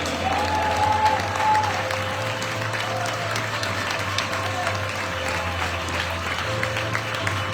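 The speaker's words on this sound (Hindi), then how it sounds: "जोरदार ताली हो जाए।" Congregation applause during an Easter church service, steady broadband clapping filling the whole stretch under a sustained electronic tone, with little speech.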